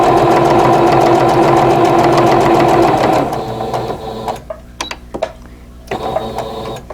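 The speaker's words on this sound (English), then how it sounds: "Now ready to sew these seams." Sewing machine stitching quilt block seams, a steady close mechanical whir for a few seconds that then breaks into shorter bursts of stitching with brief pauses.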